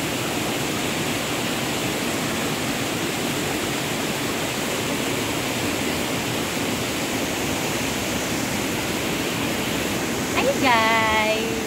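A waterfall at a mountain resort pours in a steady, broad rushing roar that fills the whole clip, with a brief higher chirping sound near the end.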